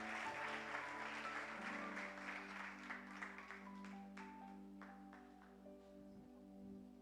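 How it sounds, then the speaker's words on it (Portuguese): Church congregation applauding during an evening Baptist worship service, a broad continuous wash of clapping that runs the whole time beneath sustained organ or keyboard tones. "Você pode aplaudir o Senhor nessa noite?"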